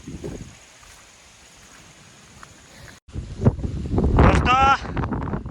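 Strong wind buffets a microphone outdoors on a rooftop during a rainy spell, a low steady rumble that swells and grows louder and gustier in the second half, with a brief bright rattle near the end.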